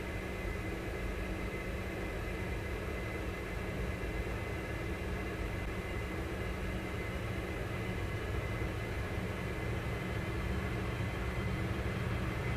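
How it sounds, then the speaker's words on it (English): A Dash 8 turboprop's second engine starts on the ground before pushback, heard from inside as a steady, dense roar and hum that fills the cabin and never lets up. "Start engine 2"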